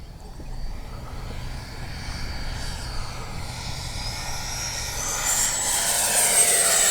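An FMS 80mm F-86 RC model jet makes a low pass down a runway, its electric ducted fan a steady whooshing whine that swells louder and rises in pitch as it draws near.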